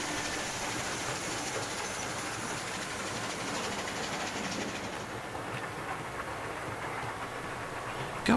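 A model locomotive runs along its track with a continuous close rolling rumble and faint clickety ticking, steady and even, easing slightly after midway, with no voices.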